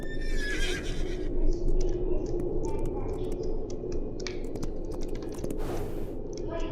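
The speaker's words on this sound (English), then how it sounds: "Ah yes, the horses that spawn on ice." A horse neighs in a video game while hunting on an icy blizzard map, a whinny rising over a dense, steady game soundscape with clicking keys and other short sharp game noises throughout.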